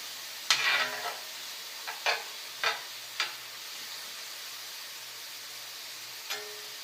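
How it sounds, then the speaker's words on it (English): Mushrooms and carrots frying in a pan for a vegan cheese dish, a quiet steady sizzle broken by several short scraping stirs, close and without talk. "Everything's sizzling and fizzing"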